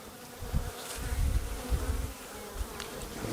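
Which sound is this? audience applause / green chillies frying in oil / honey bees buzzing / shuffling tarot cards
honey bees buzzing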